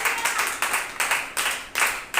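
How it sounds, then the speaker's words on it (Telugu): Church congregation clapping together during prayer at a Sunday service, a series of loud, fairly regular clap bursts in a rhythmic pattern, close and without speech. "చప్పట్లు కొట్టి ప్రార్థన."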